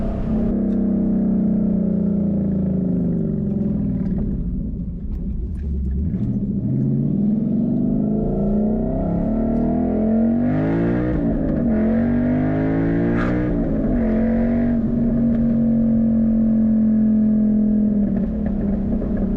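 A 2012 Boss 302 Mustang with Kooks sidepipe exhaust and NASCAR boomtubes revs repeatedly, loud and close, its V8 burbling at idle between sharp climbs and falls in pitch, with no voices.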